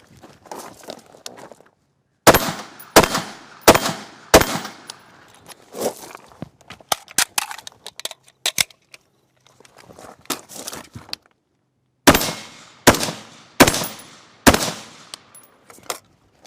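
Gunfire from a shooting drill around a vehicle, fired from exterior positions: loud, sharp close shots in quick bursts of three or four, separated by pauses filled with faint shuffling and movement, no talk.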